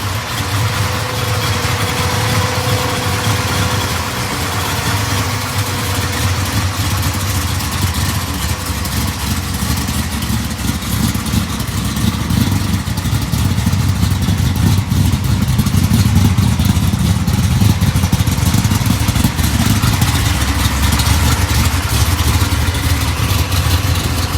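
A 1970 Plymouth Roadrunner with a supercharged, fuel-injected 451 stroker V8 built on a 400 block runs steadily, a loud close rumble with a lumpy idle and mechanical clatter that holds throughout with no talk.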